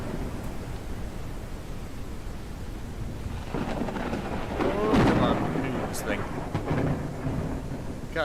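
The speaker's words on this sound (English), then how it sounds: "God, that thunder's loud." Thunder during a rainstorm in the video game Forever Skies, steady rain hiss building into a loud rolling crack and rumble midway, with a voice briefly audible.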